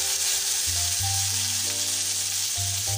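Curry leaves and a couple of small dried red chillies sizzle in hot oil for a banana flower (vazhaipoo) poriyal, a steady close, loud frying hiss that runs the whole time with soft tonal background sounds underneath.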